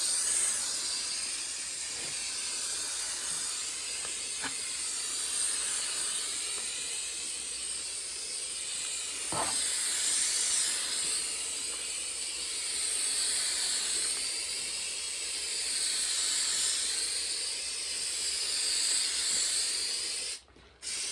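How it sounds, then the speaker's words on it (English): A steady aerosol spray hisses continuously onto vinyl panels for a camper van interior for about twenty seconds, broad and close, with brief pauses and a sharp click near the end. "So we spray this on."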